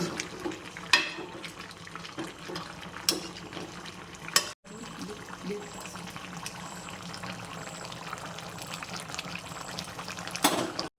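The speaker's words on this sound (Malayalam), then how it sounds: "നന്നായി തിളച്ച് വരുമ്പോൾ ഒന്ന് ഇളക്കി കൊടുക്കണം" Chicken curry simmers in a covered pot, giving a soft, continuous bubbling and watery hiss with a few sharp clinks and knocks, and a brief break midway.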